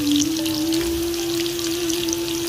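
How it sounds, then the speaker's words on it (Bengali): Ridge gourd pieces poured into hot oil with onion, garlic and green chili for a shrimp curry, a loud, steady frying hiss with crackling spatter and a sustained hum underneath. "এই ঝিঙ্গাগুলো ঢেলে দিব।"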